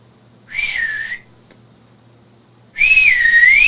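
Two loud, sharp two-finger whistles, a short shrill blast and then a longer one rising and falling in pitch, separated by a brief quiet gap.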